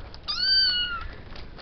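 A Bengal Persian cross cat lets out a single clear, drawn-out meow, close and fairly loud against a quiet room.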